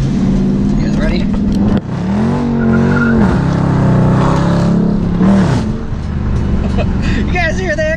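A 2017 Dodge Charger Daytona with its mid muffler deleted revs loudly up close, with a deep, raspy exhaust roar that swells and drops in repeated pulls over several seconds.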